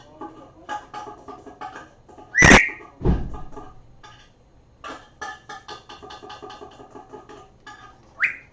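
A pet bird gives a few sharp, loud whistles between softer chirps and background chatter, with a person talking nearby at moderate volume.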